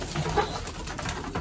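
Homing pigeons cooing softly at close range, with a low, continuous murmur of calls and no talking.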